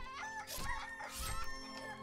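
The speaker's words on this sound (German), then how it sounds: "Mal eben seine Hühner töten." Chickens cluck in the Gothic III video game, a few short bursts of fowl calls, fairly faint, with no talk over them.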